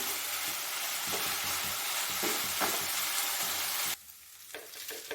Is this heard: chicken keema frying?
yes